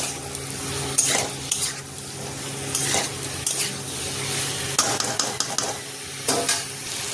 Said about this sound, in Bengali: ভালোভাবে ফুলকপি আলুর সাথে মশলাটা মিলিয়ে নেব। একটু কষেও নেব ফুলকপির সাথে।